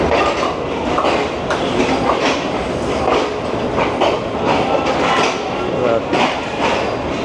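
A Pakistani passenger train with economy coaches rolls past close by, its wheels beating a steady rhythmic clickety-clack over rail joints, with someone talking over the rumble.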